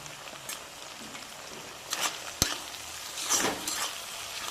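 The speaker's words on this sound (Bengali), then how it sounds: "মশলাটাকে কষিয়ে নেব" Ground spices (cumin, coriander, red chilli powder, hot chilli powder, turmeric) being stirred and fried in a pan over a low-to-medium gas flame: faint continuous sizzle with occasional scraping and clinking stir strokes, no talk.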